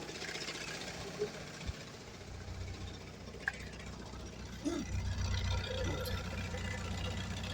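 A diesel engine running on used vegetable oil and fats idles with a steady low knocking rumble, close and continuous, while someone talks over it.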